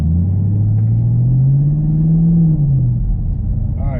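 A car accelerates with an Ultimate9 evcX throttle controller set to Ultimate 1, heard from inside the car. A loud engine drone rises steadily in pitch for about three seconds, then eases back over constant road rumble.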